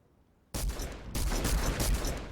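Gunfire from a fight in the Fortnite video game bursts in suddenly after a quiet start, then continues as dense, loud overlapping shots with a second surge midway.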